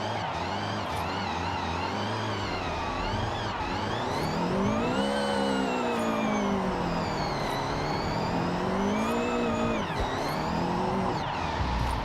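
A car drifting in Forza, driven with a wheel and pedals, as its engine revs rise and fall continuously and its tires squeal and skid loudly through an oversteering corner.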